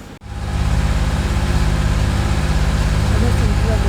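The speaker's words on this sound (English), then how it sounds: "I'm listening to a movie to kind of drown out the sound of the engine too." A sailboat's engine running at night while motoring into a headwind at sea, a loud, steady low rumble with a fast, even throb that starts abruptly and holds constant throughout.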